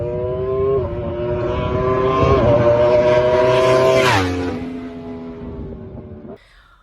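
During a race, motorcycle engines roar loudly and close by, their pitch climbing and then dropping as they pass. The roar fades away near the end.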